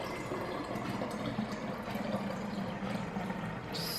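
Homemade oat milk pours steadily through a funnel into a jar, a continuous close liquid trickle and splash with no talking.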